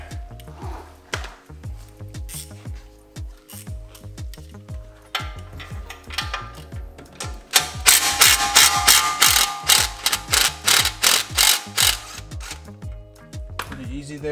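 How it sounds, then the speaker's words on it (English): A ratchet wrench loosens the spindle bolt on a BMW F30 340i, clicking in quick repeated strokes that start sparse and become a loud, fast burst of ratcheting near the end. "first we're gonna remove our spindle bolt"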